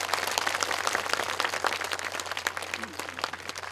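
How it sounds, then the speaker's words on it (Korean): An outdoor audience at a Korean traditional music concert gives a burst of lively, crisp clapping, steady and close, with a faint voice briefly underneath. "그분의 큰 박수 부탁드립니다"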